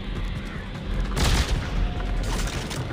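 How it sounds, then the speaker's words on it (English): Stasis grenades go off in the video game Dead Space 3: a muffled boom swells in the middle, then a second softer burst, over a steady low rumble of game noise. "Oh, like little stasis grenades."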